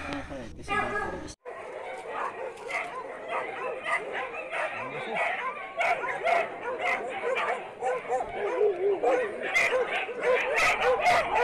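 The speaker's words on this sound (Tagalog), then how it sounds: "nag-ingay ng mga aso dahil napakaraming aso dito" Many dogs at a dog shelter bark, yip and whimper continuously in a noisy chorus, some close and some farther off, with people talking over them.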